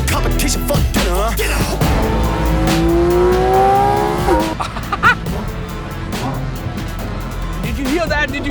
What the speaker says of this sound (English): That's a sports car.